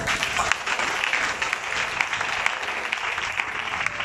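A church congregation applauds, dense continuous clapping from many hands filling the space evenly at a fairly loud, sustained level.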